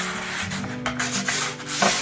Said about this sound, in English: I took just a 180, 220, just sand the surface enough to get it roughed up a little bit.